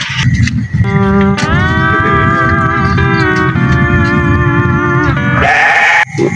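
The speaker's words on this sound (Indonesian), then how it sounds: "domba ieu gegeroan wae" A Garut sheep bleats loudly and close by, one long wavering cry followed by another drawn-out bleat, with rustling and a short final call, no voices over it.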